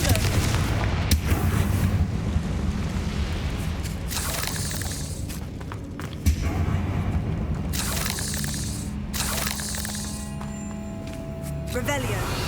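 Confringo blasting spells fire during Hogwarts Legacy gameplay, a series of heavy booms and cracking bursts over dense combat noise, with sharp hits near the start and middle and voices murmuring throughout.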